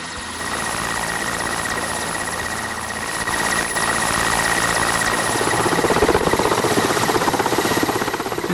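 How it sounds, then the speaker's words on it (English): A helicopter in mountain terrain gives a loud, steady rotor and engine roar with a sustained whine, holding close and even, swelling slightly toward the end, with no voices. "It's quite an extraordinary feeling when the helicopter leaves."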